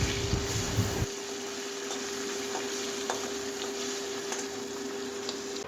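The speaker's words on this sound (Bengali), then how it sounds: "একটু মাছ পমফ্রেট মাছ ছিল সেটাকে একটু ভাজা করলাম" Pomfret fish fries in a pan with a steady, fine sizzle and crackle. A brief, louder stirring or shifting sound comes first, then the frying settles into an even hiss.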